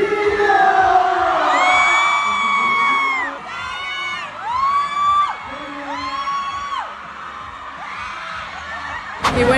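A concert crowd at a show in Mexico City cheers, whoops and screams loudly throughout, with long high-pitched shrieks rising and falling in sustained waves, ending in a sharp burst.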